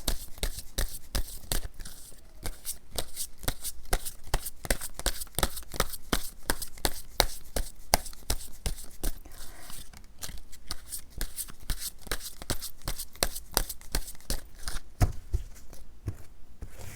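Tarot cards are shuffled continuously by hand, a steady run of quick, crisp card flicks and riffles, close and moderately quiet, with brief pauses in the rhythm.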